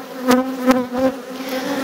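Honey bees buzz in an opened beehive, a close, steady droning hum with a few louder pulses as individual bees pass near.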